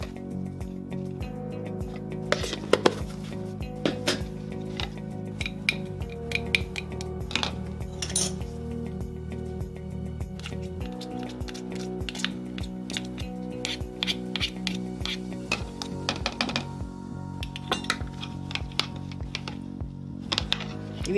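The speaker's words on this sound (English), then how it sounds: "Let's mix that and check it." Aloe vera gel and papaya serum stirred together in a small bowl, a steady run of close clinking and scraping strokes from the utensil against the bowl over a constant background tone, with no talk.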